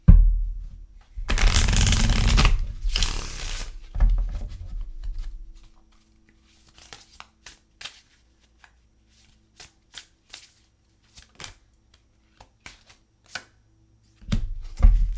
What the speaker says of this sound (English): Let's pull an emotional card for you.